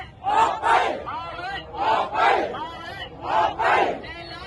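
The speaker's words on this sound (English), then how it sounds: "we've seen and heard the chants you come to expect at any protest" A large protest crowd in Thailand chants in unison, repeating a two-beat shout in regular bursts with short pauses between, loud and close.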